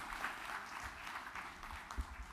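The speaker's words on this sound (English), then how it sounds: "please welcome with a huge round of applause" Applause from an audience welcoming a government minister at a ceremonial event, a continuous wash of clapping heard from a distance, fairly faint and even.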